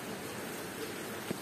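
Rain falling outdoors at a farmyard, a soft, even hiss of steady rainfall heard faintly for a brief moment with no voices.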